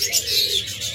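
A pair of cockatiels offered for sale, a breeding pair that has already laid an egg, calls with bright chirps and whistles, repeated and overlapping at close range over a low background hum.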